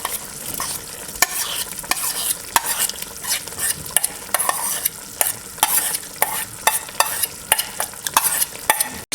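A spoon scrapes and knocks inside a pot as cracked bulgur is mixed into a vegan soup, giving repeated sharp clacks over a soft background simmer, close and clear, with no one speaking.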